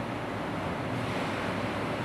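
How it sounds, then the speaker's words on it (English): Water chiller and cooling fan running on a YihuiCasting melting furnace, a steady broadband whoosh of fan air and circulating water, continuous and fairly even throughout with no talking. "then the water chiller start to work and the fan start to work."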